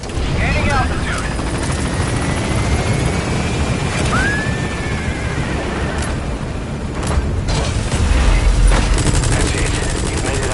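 A helicopter lifts off from a landing zone in Metal Gear Solid V, its loud, continuous rotor roar filling the scene, with gunfire crackling and a voice talking over the noise.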